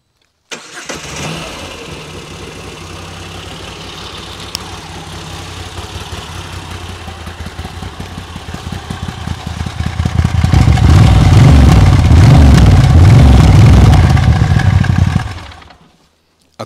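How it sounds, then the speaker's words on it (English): A Moto Guzzi V85 TT motorcycle starts and idles through its exhaust, a close, steady low burble that thickens and grows louder as revs rise briefly, then cuts off abruptly. "I almost forgot to show you the exhaust sound."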